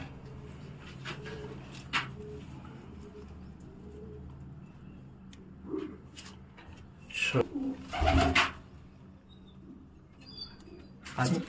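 Pigeons coo softly amid scattered wing flutters and rustling, with a few louder bursts of activity nearby.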